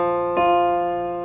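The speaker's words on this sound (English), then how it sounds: "Here are two notes played an octave apart from each other," Two sustained tones an octave apart, the second entering just after the first and blending into a single steady, resonant sound that slowly fades, clean and close with no voice.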